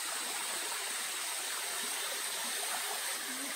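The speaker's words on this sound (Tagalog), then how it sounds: "welcome to Bulalakaw Falls" Bulalacao Falls in El Nido, Palawan, heard as a steady, dense rush of falling water, continuous and even from start to finish with no voices.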